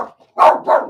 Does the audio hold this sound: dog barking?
yes